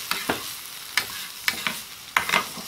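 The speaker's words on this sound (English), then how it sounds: "So I've added the eggs. Mix the eggs in, cook well." Beaten eggs stirred in a hot pan over high heat, a soft continuous sizzle broken by several sharp scraping strokes of a utensil at regular intervals, fairly close.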